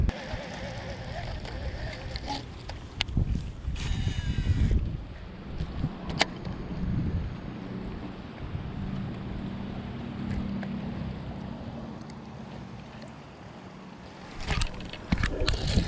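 Strong gusting wind buffets a fishing boat on Wheeler Lake during fall bass fishing, a steady roar of wind noise against the microphone with occasional thumps and splashes, and faint voices in the background.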